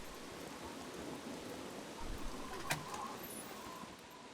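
Rain in the video game Scum makes a steady, faint hiss of falling drops, with a brief sharper patter partway through.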